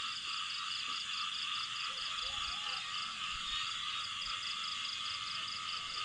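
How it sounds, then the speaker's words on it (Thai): Frogs croak in rural countryside, a dense continuous chorus of rapid rhythmic calls filling the background at steady volume, with a few lower nearer croaks, and no talking. "ฟังเสียงกบเสียงเขียด"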